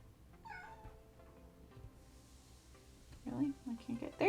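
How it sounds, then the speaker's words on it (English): A kitten meows indoors, a short high cry early on and then several quicker mews near the end, close and fairly clear against a quiet room. "Oh, we have a kitten."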